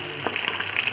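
Fish frying in hot oil, a soft continuous close sizzle with light crackling spits over about a second, no talking.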